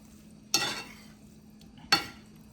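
Two brisk scraping stirs of shrimp and spaghetti noodles in a pan, each a short sizzling swish about a second and a half apart, close and quiet.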